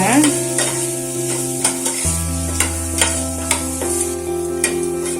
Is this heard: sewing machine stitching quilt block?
no